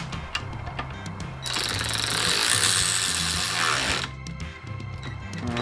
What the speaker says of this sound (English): All right, I'm going to do a bolt test here. This is a 19mm bolt.